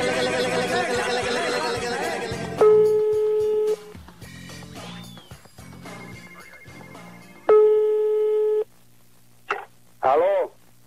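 Telephone dialing tones and busy signal on a radio prank call, with steady flat tones repeating in two bursts and short beeps, between stretches of chatter and voices on the line.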